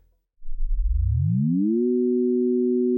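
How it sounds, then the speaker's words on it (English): Two combined sine waves, one at 3 Hz and one at 2 Hz, sped up: a pair of pure tones sweeps upward from a low rumble, then settles into a steady, loud two-note chord that holds alone. "Let's have a 3 Hz sine wave going horizontally and a 2 Hz sine wave going vertically."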